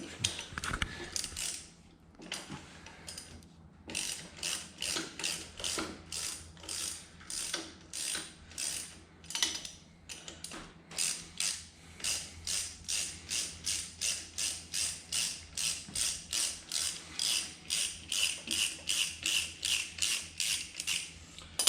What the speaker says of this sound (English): break loose the center bolt